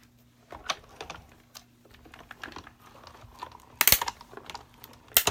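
Card stock is pressed through the plates of a die cutting machine, giving a string of small creaks and clicks that end in two loud sharp cracking snaps, close and without talk.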